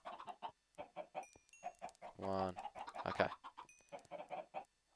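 Minecraft chickens cluck in a rapid, uneven series of short clucks, with a couple of longer, buzzier calls in the middle and a brief spoken word among them.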